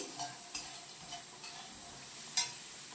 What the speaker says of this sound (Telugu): ఇవి మొత్తం పచ్చివాసన పోయేంత వరకు ఫ్రై చేసుకోవాలి.